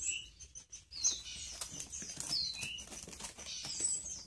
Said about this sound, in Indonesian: Dan ini adalah burung anakan ciblek kristal.